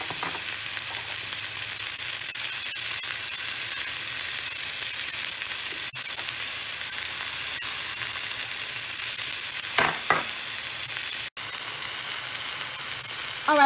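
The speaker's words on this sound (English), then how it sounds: "I've been letting them sear for a couple of minutes" Chicken pieces sear in a hot frying pan, giving off a steady, close, even sizzle with a few faint clicks, and no one talks over it.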